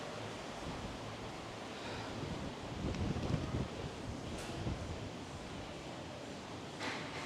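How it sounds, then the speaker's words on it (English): Wind gusts across the open deck of a cruise ship at sea, a steady broad rush with faint surf beneath it and no talk. "I don't know if you can tell that wind's blowing, but it is."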